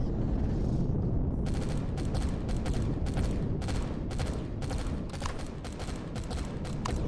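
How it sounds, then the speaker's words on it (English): Ship-mounted cannons in Empyrion Galactic Survival blast away at Zirax attack drones at night, a dense, continuous barrage of rapid heavy booms and bursts with loud rumble throughout, no talking. "Cannons are going to town on them though, aren't they?"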